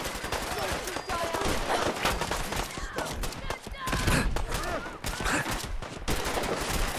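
Gunfire in the video game Fallout 4 crackles in dense, rapid volleys of close shots throughout, with a voice talking faintly under the shooting.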